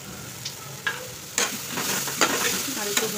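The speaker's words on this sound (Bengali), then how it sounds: "তারপরে দেখো পেঁয়াজ মরিচগুলো ভাজা করে নিচ্ছি" Onions and chillies fry in a pan with a soft steady sizzle, broken by several sharp scraping clinks of a spatula stirring, close and fairly quiet with no talk.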